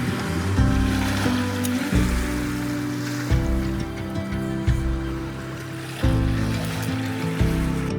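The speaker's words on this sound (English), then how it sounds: "This beach is really nice because you can hear the ocean water" Ocean waves wash continuously onto a beach in Lofoten, Norway, in the Arctic, a broad steady surf roar with periodic swells, heard close and loud with some wind rumble.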